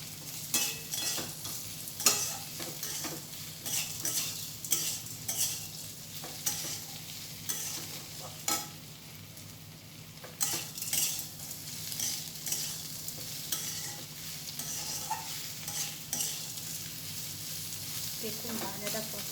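Ivy gourd (kundri) fries with coconut in a pan, sizzling steadily while a utensil stirs and scrapes through it in repeated sharp clicks and rustles, close and moderately loud throughout.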